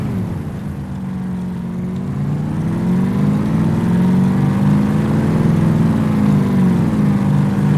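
Scrap buggy car in the video game DayZ, its engine revving steadily and rising in pitch, a loud continuous mid-range drone with wavering harmonics and no talk.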